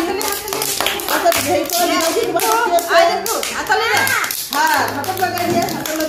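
Young children clap their hands in quick, uneven bursts close by, while an adult voice keeps talking over the claps.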